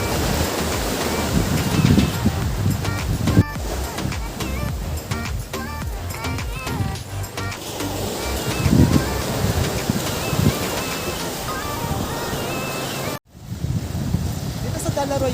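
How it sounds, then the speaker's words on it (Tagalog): Strong ocean surf crashes and rushes along Dalaroy Beach in Ternate, Cavite, near rock formations, a loud continuous roar mixed with gusty wind buffeting the microphone. "Dito sa Dalaroy Beach, malakas yung alon ngayon."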